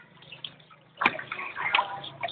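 A child splashes and slaps at water in a bathtub, with brief splashes and gurgling that grow busier after a sharp splash midway through, heard up close.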